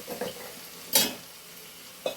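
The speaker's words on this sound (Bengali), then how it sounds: "এবার মশলাগুলোকে একসাথে করে আমি নাড়তে থাকবো।" Spices being stirred together in a pan while cooking chana matar, a few short scraping and sizzling strokes spaced out, close and fairly quiet with no talk.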